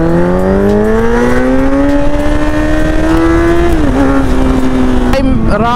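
Motorbike engine rising steadily in pitch as it rides along a city road with a passenger on the back, loud and close throughout, easing off near the end, with traffic noise around it.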